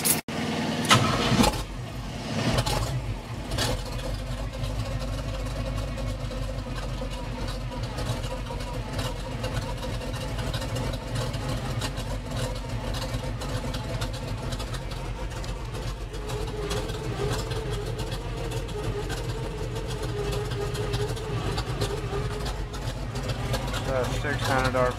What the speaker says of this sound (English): This will be the last time this engine's ever started.